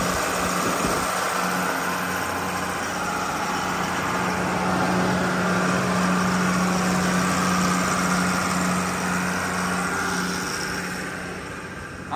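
Allis Chalmers 7020 tractor engine, long unused and with about 3900 original hours, running steadily at a close distance with a low rumbling drone and a constant broadband roar, slightly fading toward the end.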